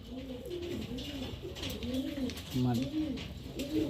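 A Madrasi pigeon coos repeatedly in low, rolling phrases, close by, with soft background noise and no talk.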